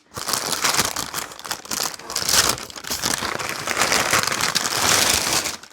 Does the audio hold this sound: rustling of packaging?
yes